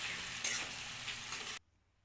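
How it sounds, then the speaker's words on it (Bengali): Onions and ground spice paste sizzle steadily in hot oil for a spicy small-fish curry, a close, dense frying hiss that cuts off abruptly near the end. "পেঁয়াজ দিয়ে দিয়েছি, এবার ভেজে নিই হালকা করে।"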